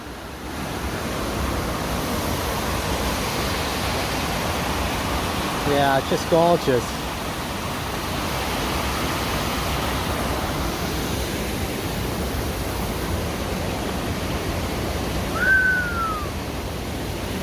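River water rushes steadily beneath a footbridge on the Superior Hiking Trail, a broad constant roar filling the scene; a voice speaks briefly over it partway through.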